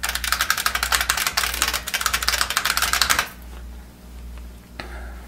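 Rapid, crisp clacking from typing on an original IBM Model F keyboard, dense and close for about three seconds before stopping, followed by quieter handling noise.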